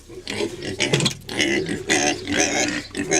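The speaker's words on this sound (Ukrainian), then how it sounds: "І піск стоит такой. Свиньи свістять." Pigs squeal and grunt in shrill, overlapping bursts close by, a rapid uneven stream of loud cries with brief gaps, no talking.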